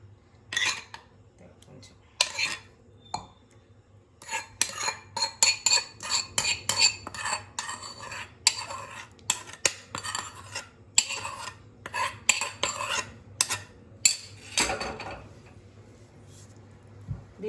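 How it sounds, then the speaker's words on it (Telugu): Boiled tomatoes are pounded in a stone mortar for a ripe red chilli dish, giving irregular sharp knocks and scraping clatters that speed up into dense runs of hits and then ease off. "ఇందాక బాయిల్ చేసాం కదా టమాటా అది వేసేద్దాం ఇది కూడా దంచుకోవాలి ఇది కూడా రోట్లో"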